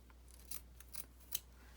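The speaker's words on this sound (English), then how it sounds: "I'm just going to snip off some of this." Scissors snipping paper while making journal tags, three quick, crisp cuts in close succession in a quiet room, with no talking.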